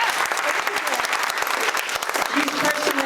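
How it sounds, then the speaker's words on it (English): An audience at a Boulder community meeting on climate and local clean energy applauds a board member. The clapping is steady, dense and moderately loud, with many hands rattling together and some voices underneath. "Round of applause for her."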